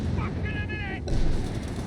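A tank gun fires in Company of Heroes 3, striking a Grant tank's frontal armor; a sharp boom lands midway, with a tonal whine just before it and battle noise rumbling throughout.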